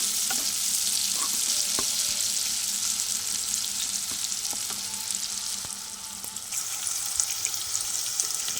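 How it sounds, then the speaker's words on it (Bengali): Bitter gourd sizzles steadily in hot oil in a pan up close, with scattered light taps and scrapes of a spatula through the continuous hiss. "উচ্ছেটা প্রায় ভাজা হয়ে এসছে।"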